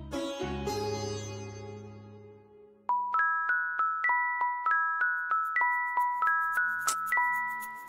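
A phone message notification chimes in a quick run of bright, repeating ding tones that keeps going for about five seconds. It follows a short sustained tone and sounds close and clear.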